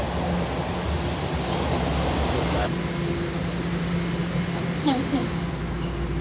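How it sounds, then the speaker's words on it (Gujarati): A train pulls into a station in Toronto: a steady, dense rumble of rolling wheels and machinery holds for the whole stretch, with faint voices mixed into the background. "એ લોકોની ટ્રેન આવી ગઈ છે"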